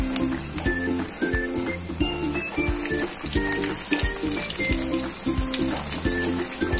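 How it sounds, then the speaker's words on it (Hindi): Biscuit cutlets deep-frying in hot oil, a dense crackling sizzle with rhythmic scraping and clinking of a spatula repeating roughly every half second, close up and steady. "इसे गोल्डन ब्राउन होने तक हम अच्छे से फ्राई करेंगे।"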